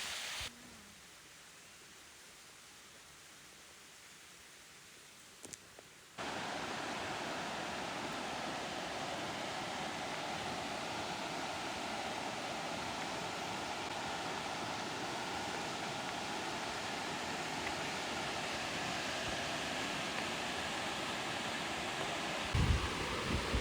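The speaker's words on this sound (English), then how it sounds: "Beautiful Sultan River." The Sultan River near Sultan, Washington rushes as a steady, broadband roar of flowing water, quieter at first and then swelling loud and constant, with no talking.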